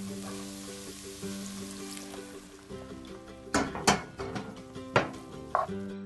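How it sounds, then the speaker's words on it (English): Mushrooms tipped into a pan of onions and garlic, landing in a few clattering, sizzling bursts over steady low background music. "now I'm going to add the mushrooms into our pan with the onions and garlic"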